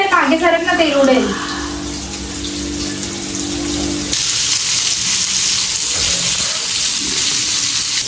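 Fish frying in hot oil with curry leaves, a loud hissing sizzle that jumps sharply in intensity midway as pieces hit the pan, with a person talking briefly near the start.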